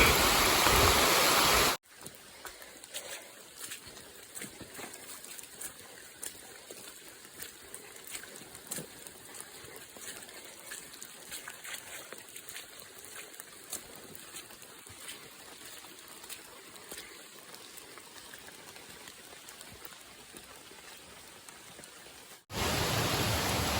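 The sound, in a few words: heavy rain falling on the trail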